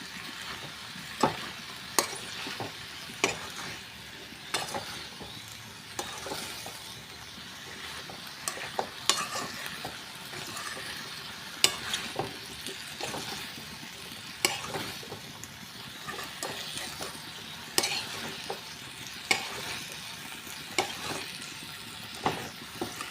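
Potato curry being stirred and mixed in a frying pan over high gas, a steady sizzle broken by regular scraping clicks of the spoon against the pan, close and alone with no talk.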